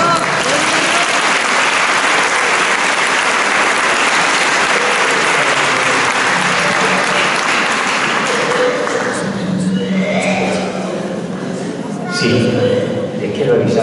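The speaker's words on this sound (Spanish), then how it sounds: "Aplausos." A congregation at a church healing service bursts into loud, sustained applause that fills most of the stretch, then thins out and fades as a voice begins speaking over the dying claps.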